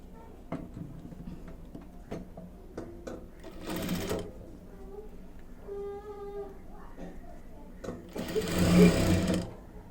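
A sewing machine stitches fabric straps for a bag in short, close bursts of whirring needle clatter, the longest near the end, with quiet handling clicks and a voice speaking between runs.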